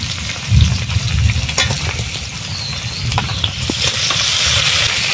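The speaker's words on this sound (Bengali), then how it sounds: "এবারে দিয়ে দেবো ছাড়িয়ে রাখা তেলো কাঁকড়াগুলো।" Peeled crabs dropped into a pot of nearly boiled potatoes, sizzling and bubbling loudly up close with a steady hiss and soft stirring knocks.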